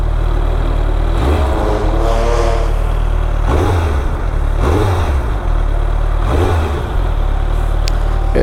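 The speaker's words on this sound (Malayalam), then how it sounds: "ചെറുതായിട്ടൊന്ന് ത്രോട്ടിൽ കൊടുക്കാം." A superbike engine idles loudly and close, then is blipped with the throttle four times, each rev rising and falling sharply before settling back to a steady idle.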